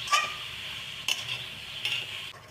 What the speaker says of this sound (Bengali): এখন ভালো মতো শাকটা নেড়ে দিব।